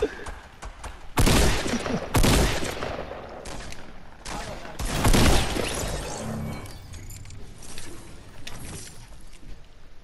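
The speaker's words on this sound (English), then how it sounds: "I got rocket launched, three grenades thrown in, and someone shotgunning me." Battle-royale gunfight in Fortnite, with a rocket launcher hit, grenade blasts and shotgun fire: several loud, harsh bursts close together, each trailing into rumbling debris and crackle, then dropping to quieter background noise.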